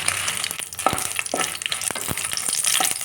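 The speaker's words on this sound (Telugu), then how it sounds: "ఎండుమిర్చి, ధనియాలు దోరగా వేయించుకున్నాం" Dry red chillies and coriander seeds being roasted in a little oil in a pan, with a steady sizzle and crackle broken by sharp scraping stir strokes, close and fairly loud, no voices.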